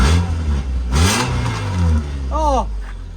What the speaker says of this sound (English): It pops as well, but they ain't got any exhaust on it.